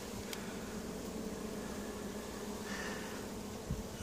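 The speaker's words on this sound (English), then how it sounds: "Quite a few bees down there as well." Honey bees hum in a soft, steady buzz around an opened hive that is being split, with a faint single tap near the end.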